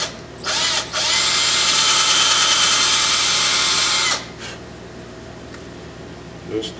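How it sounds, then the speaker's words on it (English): A small power drill pre-drills a hole in wood for a carved coffee pot, running in one loud, steady whir of about three and a half seconds after a brief start, then stopping, close by. "I've picked me a smaller drill here because I want to pre-drill the hole"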